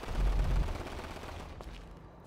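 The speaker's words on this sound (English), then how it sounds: "I already hear gunshots." Gunfire in Grand Theft Auto V rattles out in a loud burst of rapid shots, then fades to scattered, more distant pops with a sharp crack at the very end.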